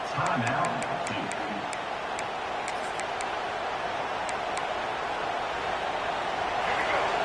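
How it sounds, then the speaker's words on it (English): Stadium crowd noise from a college football video game, Duke against NC State, a steady dense roar filling the clip, with a few faint clicks near the start. "Listen to this crowd just shaking the girders of this place, trying to help their defense."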